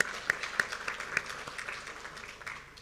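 Scattered applause from a small summit audience in a conference hall, a handful of distinct sharp claps at first that thin into lighter, quieter clapping toward the end.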